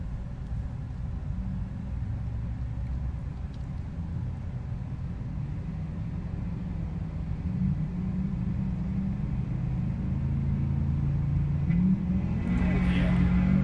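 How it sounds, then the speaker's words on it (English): A 6th gen Camaro and a Duramax 70 Chevelle at a heads-up drag race at Thunder Valley Raceway, rumbling deeply at the line and swelling louder near the end while an announcer talks. "What a good side by side heads up drag race."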